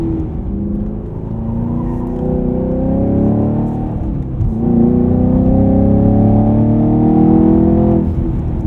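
A Camaro SS 1LE holds a sustained, loud engine roar through a burnout on a track, with rising and falling revs and a brief dip before it surges again, with no voices.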